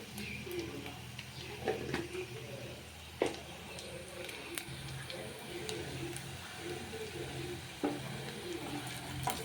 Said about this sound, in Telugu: పసుపు వేసుకొని ఇట్లా కలుపుకుందాము